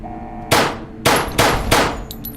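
Four loud, close gunshots in Fallout: New Vegas, The Lonesome Road, each a sharp crack with a short ringing tail, coming in an uneven rhythm over a low background hum.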